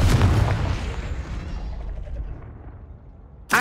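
A Confringo fire spell explodes in the video game Hogwarts Legacy: a heavy, booming blast at the start that rumbles and fades away over a few seconds.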